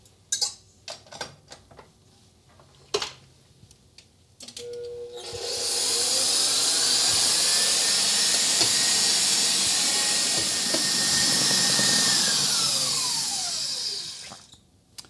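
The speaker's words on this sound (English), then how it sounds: "And we're going to whisk this up until stiff peaks." Electric mixer whisking egg whites toward stiff peaks for a gluten-free chocolate mousse: a steady high whirring hiss that starts after a few faint clinks and holds loud and even, with the motor pitch shifting slightly as it runs.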